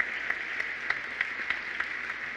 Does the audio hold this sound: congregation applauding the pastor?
yes